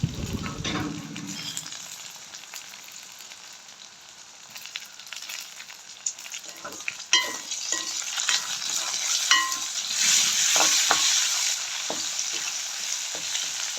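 Onions with curry leaves and other leaves frying in oil for a dried-fish curry, a steady close sizzle with occasional stirring scrapes and clinks over about fourteen seconds, no talk.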